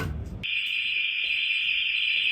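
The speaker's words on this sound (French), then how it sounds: "Il y a l'alarme dans le lycée." A high school fire alarm sounds after a brief moment of low noise, then rings as a loud, piercing, unbroken tone that holds steady to the end.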